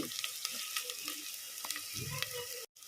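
Onions with ginger and garlic fry in a pan for palak egg masala, a continuous quiet sizzle with light crackles and a few soft stirring taps, ending in a brief drop to silence.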